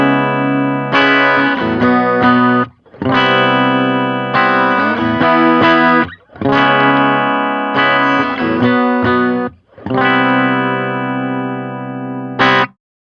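Electric guitar through a Supro Delta King 10 amp with the treble raised, crunchy overdriven riffs played in repeated phrases with short pauses, bright and biting, close and loud.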